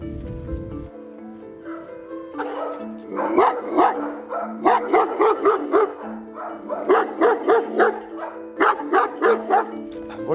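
A dog barks repeatedly while someone walks past it, starting with a few isolated woofs and then settling into loud, rapid bursts of barking close by.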